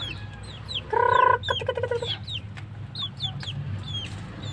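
Chickens cluck and squawk nearby in short bursts, with a brief louder call partway through over a low background hum.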